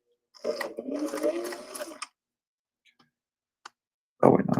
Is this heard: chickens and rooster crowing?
no